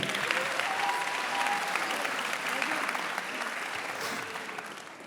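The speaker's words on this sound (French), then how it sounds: "T'as quand même droit à des applaudissements" Applause rises from an audience at a French-language debate or eloquence contest, a broad steady wash of clapping lasting several seconds with voices mixed faintly underneath.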